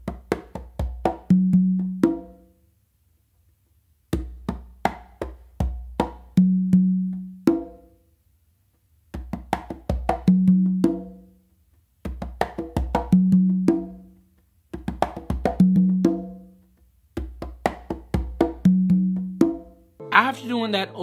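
A songo rhythm played by hand on two congas repeats in tight phrases of quick slaps and taps ending in ringing open tones, close and lively, with a short pause between each cycle and no talking.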